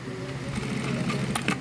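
A Jack A4B electronic straight-stitch sewing machine runs a short burst of stitches through fabric, a steady close mechanical whir with light rattle, then stops on its own.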